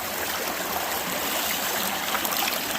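A steady rush of water and thick clay slurry runs through a gold sluice over riffles, a continuous broadband wash with no pauses.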